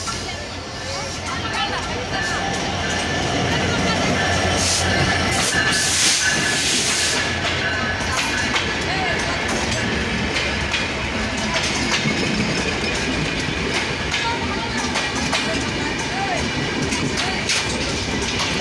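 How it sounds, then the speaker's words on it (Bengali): The Up Nilsagar intercity express from Dhaka to Chilahati pulls into platform 1 at Domar railway station behind diesel locomotive 6627, with a steady, loud rumble of rolling wagons and brake hiss beneath the chatter of a station crowd. "দেখতে পাচ্ছেন 1 নম্বর প্ল্যাটফর্মে কিন্তু আপ নীলসাগর ঢুকলো"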